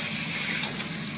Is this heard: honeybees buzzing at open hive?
no